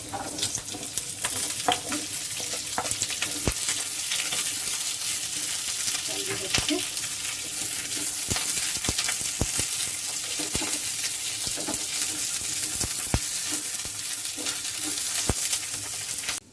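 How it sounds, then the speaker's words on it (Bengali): Onion and capsicum fry in a pan alongside momos with a steady, close sizzle. Repeated sharp clacks and scrapes of a spatula against the pan run throughout. "এবার আমি আস্তে আস্তে করে পেঁয়াজ ক্যাপসিকামটা দিয়ে দিলাম"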